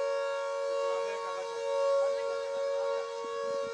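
Civil defense air raid siren wailing across Chandigarh, a loud steady multi-tone drone that swells slightly, with faint distant voices and scattered street noise underneath.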